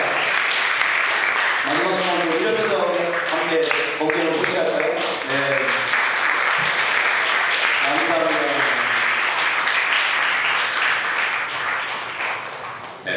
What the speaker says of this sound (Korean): 우리 큰 박수로 전영국 목사님 모시겠습니다